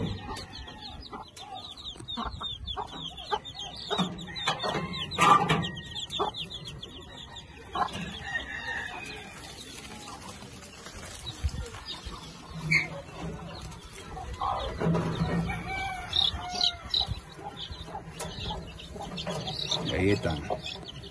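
Chickens cluck and squawk steadily in the background, with scattered sharper calls and a person talking intermittently nearby.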